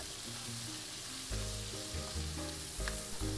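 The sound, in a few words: sautéing garlic in hot butter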